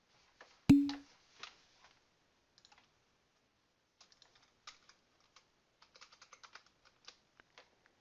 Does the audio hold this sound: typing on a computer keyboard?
yes